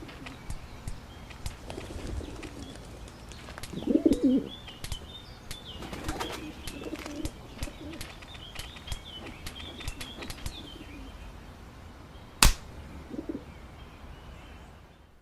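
Pigeons in a 2D cartoon soundtrack: repeated wing flaps and flutters, with a soft low coo near the middle and a sharp flap burst near the end, over a quiet background.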